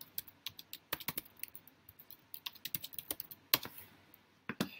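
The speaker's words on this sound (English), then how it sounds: "So I'll just type in some example names here." Fingers type on a computer keyboard, entering names into a spreadsheet, a close, fairly quiet patter of crisp key clicks in uneven bursts with brief pauses and no voices.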